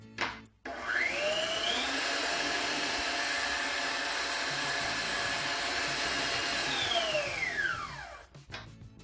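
An electric mixer beats batter after whole milk has been added, giving a steady whirring drone that spins up, runs evenly for several seconds and then winds down, with no talk.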